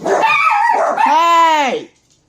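Pet dogs indoors let out loud, close yelps and a drawn-out whining howl over about two seconds, and then they fall silent.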